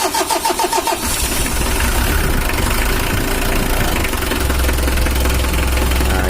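A Mitsubishi L300 diesel engine cranks with a few rhythmic starter pulses, then catches and settles into a loud, steady, close idle with a low clattering rumble.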